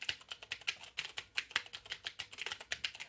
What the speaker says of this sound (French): Le bruit des doigts sur le clavier et le bruit de cette interaction avec l'ordinateur